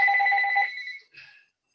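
A telephone rings during an interview, a bright electronic ring lasting about a second, then a short second burst before it stops, heard alone and fairly loud.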